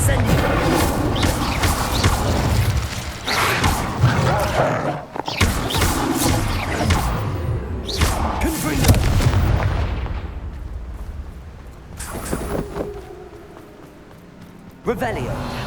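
Spell blasts in Hogwarts Legacy, three cast in quick succession, booming and crackling loudly over rumbling combat noise, with bursts of voices calling out among them.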